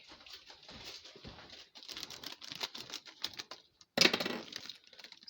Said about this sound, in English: So, I need a scissors. Scissors to open this bag.